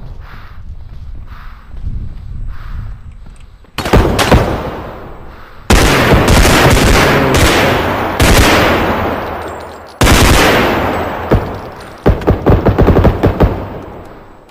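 Gunfire in the realistic shooter game Bodycam: faint footsteps, then loud close bursts of automatic rifle fire in several strings, each echoing and decaying between volleys, ending in rapid shots.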